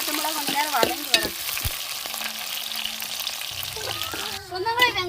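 Onions and green chillies frying in oil, a close, steady sizzle with scraping stirs of a spoon against the pan and a few utensil knocks.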